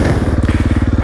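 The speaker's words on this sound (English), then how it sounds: "Okay, a little wheel hop." Motorcycle wheel hop, a loud, close, rapid rhythmic thumping pulse under the running engine, the rear tyre chattering in quick repeated bursts for about a second.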